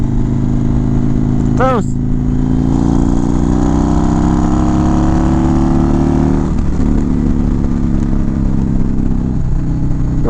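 A motorcycle engine runs close by, a steady low throbbing drone with a slight shift in pitch partway through, while a voice speaks briefly over it.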